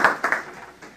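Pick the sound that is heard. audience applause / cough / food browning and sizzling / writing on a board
audience applause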